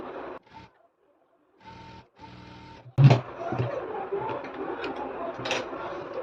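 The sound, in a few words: sewing machine stitching a zip onto cargo pants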